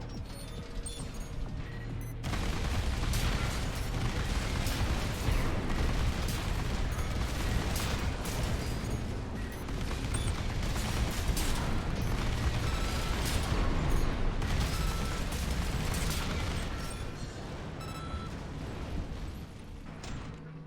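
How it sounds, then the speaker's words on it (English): Rapid machine gun fire from a mech's hand weapons in the video game Armored Core VI: a dense, loud, sustained mechanical rattle of continuous shots with heavy rumbling underneath, running through most of the clip with no talking. "Hold the right trigger and left trigger for rapid fire both hand weapons."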